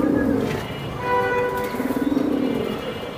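A silver female pigeon coos nearby, with soft throaty rolling calls in two bursts and faint chirps in the background.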